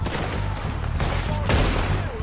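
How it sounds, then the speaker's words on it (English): Rapid gunfire from Red Dead Redemption 2 crackles through a busy firefight, with overlapping shots and bursts throughout and heavier blasts near the middle and end. "I shot his hat off"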